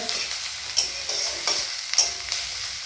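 Onions fry in a pan for chicken do-pyaza, a steady sizzle broken by several sharp spoon-stirring scrapes at close range, with no one talking.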